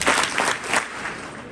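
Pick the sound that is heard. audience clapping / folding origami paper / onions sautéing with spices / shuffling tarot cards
audience clapping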